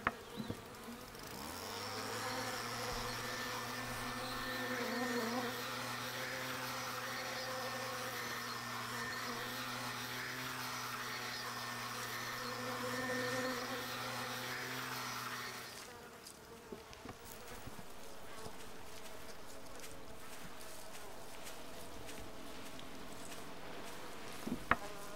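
Bees are blown out of honey supers with a loud, steady motorized blower roar that runs for about fifteen seconds, with a dense insect buzz mixed in, then cuts off and leaves scattered buzzing and handling noise.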